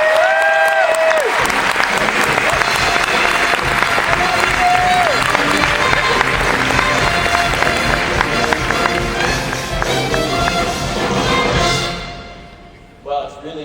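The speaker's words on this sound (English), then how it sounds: "a big round of applause for Mickey Mouse" Loud, sustained audience applause and cheering for Mickey Mouse at the 2011 D23 Expo theme parks and resorts presentation, a dense crowd roar filling most of the clip before fading out near the end.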